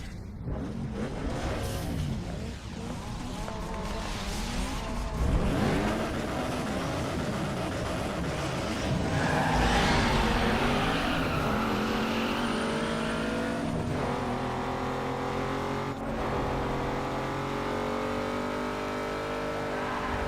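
Race car engines from the Gran Turismo video game roar continuously, rising and falling in pitch as the cars accelerate and shift gears, with occasional tire squeal, loud and alone.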